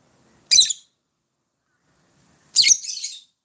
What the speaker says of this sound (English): Betty is definitely the more wild and vivacious bird of all.